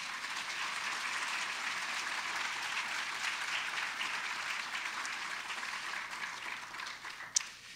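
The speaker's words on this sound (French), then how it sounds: "Je vous demande d'applaudir, s'il vous plaît, Mme Claire Duguay." Applause fills a hall at a university graduation ceremony in Gatineau, even and sustained at a moderate distance, with a single sharp click near the end.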